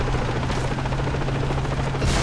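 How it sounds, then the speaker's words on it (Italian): A helicopter in the Far Cry 3 video game roars with loud, rapid, continuous rotor chop over a steady engine drone, close and unbroken throughout. "Elicottero, macchina che fuma."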